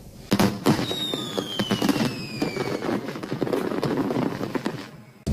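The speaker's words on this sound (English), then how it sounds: "they have a professional fireworks show going off tonight" Professional fireworks show at a racetrack at night: a dense, continuous run of booms and crackling bursts with whistling rockets, loud and fairly near, ending in a sudden cut.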